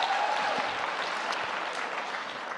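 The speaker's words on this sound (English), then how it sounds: "do give him a round of applause because it's really amazing." An audience applauds in a steady, dense wash of clapping that holds throughout, fairly near and even.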